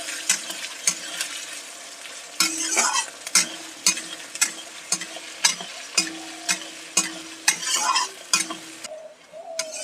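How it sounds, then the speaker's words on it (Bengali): Chopped onions fry in hot oil for a chicken curry while being stirred, with a steady sizzle under a regular rhythm of scraping spoon strokes against the pan, close and clear. "পেঁয়াজটা আমি লাল করে ভেজে নেব।"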